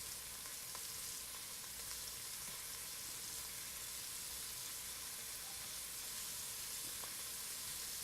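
Beef pieces searing in a smoking hot pan for a quick stew: a faint, steady, even hiss of frying with no break, sitting low and distant throughout.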